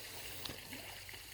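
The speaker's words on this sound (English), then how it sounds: "and then it returns up to a waterfall up there" Backyard pond waterfall fed by an Intex pool filter pumping water from a 5-gallon bucket, a steady broadband splashing trickle heard close and continuous with no talk.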